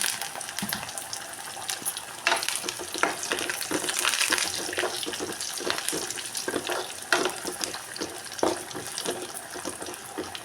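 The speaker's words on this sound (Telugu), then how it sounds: "ఇంకొని కరివేపాకు, తాలింపు, ఎండుమిరపకాయలు కూడా వేసుకుంటామండి" Loud, busy frying of curry leaves and dried red chilies in oil, hissing and spitting with sharp crackles and bursts, interrupted by stirring clatter, continuous for about ten seconds without speech.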